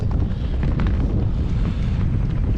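Strong wind buffeting the microphone on a lake during December kayak fishing, a constant low roaring rumble with no pauses, close and loud, no voices.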